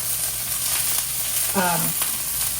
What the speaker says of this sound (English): To this, I'm going to add sesame seeds and let those cook.